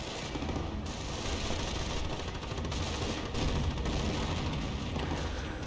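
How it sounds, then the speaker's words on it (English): Dense, continuous gunfire in the video game Company of Heroes, with overlapping bursts and booms, loud and relentless across the whole stretch like a heavy battle. "Incoming gunfire!"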